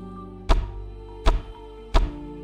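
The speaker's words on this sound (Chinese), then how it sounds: "还有一个沉闷的咚咚的声音" At the end of the image row in Reverse: 1999, the interface gives three dull, heavy thuds, evenly spaced about three quarters of a second apart, each with a short ringing tail over a faint low hum.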